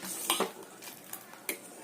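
Ridge gourd fry being stirred in a pan with jaggery just added, giving a few light scrapes and clinks of a spoon against the pan, quiet and close, with no talking.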